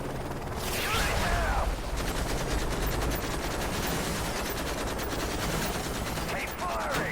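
Sustained automatic gunfire in Call of Duty: Modern Warfare 3, dense rapid bursts running nearly the whole time at steady loudness, with brief swooshing whistles near the start and end.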